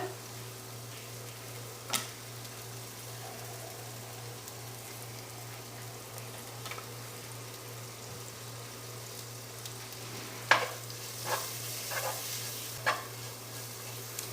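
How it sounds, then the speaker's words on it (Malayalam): Spices are stirred into frying oil for a chicken sausage potato curry, with a faint steady sizzle and only occasional sharp utensil clicks and scrapes, quiet and close, clustering toward the end. "ഇനി ആ പൊടികളുടെയൊക്കെ ഒരു പച്ചക്കുത്ത് പോകുന്നത് വരെ നമുക്ക് എല്ലാം കൂടി ഒന്ന് ഇളക്കി കൊടുത്ത് യോജിപ്പിച്ചുകൊണ്ടിരിക്കാം"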